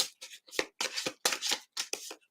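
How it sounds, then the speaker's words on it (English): Playing cards are shuffled by hand in a messy style, a series of short crisp riffling bursts with small gaps between them, close and fairly quiet. "I don't shuffle like a lot of people, so it's kind of messy."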